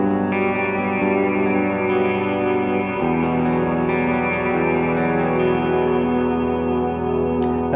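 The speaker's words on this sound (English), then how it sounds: "let's see how it sounds in position 1 with the kind of traditional humbucker sound" Schecter Sunset Triad 7 seven-string guitar on a clean tone in pickup position 1, a traditional humbucker voice, playing sustained ringing chords with a chord change near the middle, steady and close with light ambient echo and no talk.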